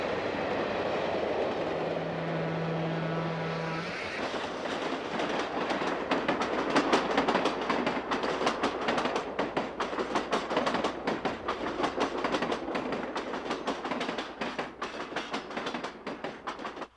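The Coast Daylight passenger train heads toward San Francisco near the 17th Street Tunnel with loud, continuous wheel rumble and rapid clickety-clack over rail joints. A brief horn-like tone comes first, then the train passes close by for the whole stretch.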